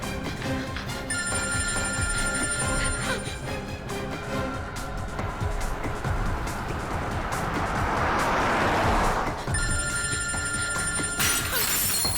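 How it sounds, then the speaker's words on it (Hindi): A telephone rings repeatedly with no one picking up, its bright, steady tones sounding in bursts over a dense, noisy dramatic background that swells in the middle. "कोई फोन ही नहीं उठा।"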